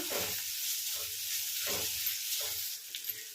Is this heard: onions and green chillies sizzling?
yes